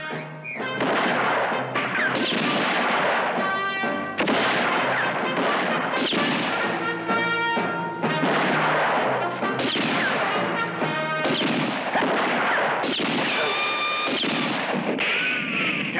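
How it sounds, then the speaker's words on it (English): Repeated gunfire and ricochet-like crashes fill a spaghetti western shootout among rocks, loud and dense with shots spaced irregularly throughout, layered with music-like tonal bands and no clear talk. "Careful, don't waste shots, Harold."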